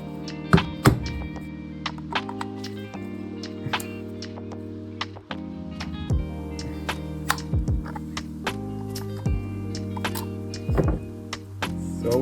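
Repeated sharp metallic knocks from hammering a stuck part loose during a BMW E46 repair, irregular close blows with gaps between them over a steady faint background.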